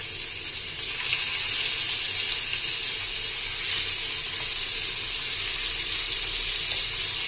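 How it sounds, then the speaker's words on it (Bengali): Fish frying in hot oil in a home kitchen pan, a steady hissing sizzle that holds evenly and close for several seconds after a slightly quieter start, with no talking. "তেল গরম হয়ে গেছে, মাছগুলো ভেজে নিচ্ছি।"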